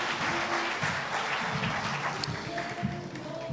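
An audience at an artisans' graduation ceremony for centres of specialisation applauds the minister as he comes up. The clapping is steady and moderately distant across the whole stretch, with faint crowd murmur underneath.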